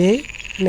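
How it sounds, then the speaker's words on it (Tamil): A frog gives two short, close croaks, one at the start and one at the end, with a faint high hum between them. "அடுத்து நம்ம பார்க்க போகிறது தவளை"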